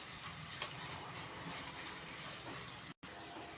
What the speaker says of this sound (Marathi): दोन चमचे मी बेसन पीठ टाकत आहे हे छान फ्राय करून घ्यायचं आहे